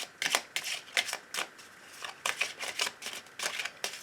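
Oracle cards shuffled and handled by hand, a quick run of crisp riffling, flicking bursts and soft slaps, close and fairly quiet with no voice.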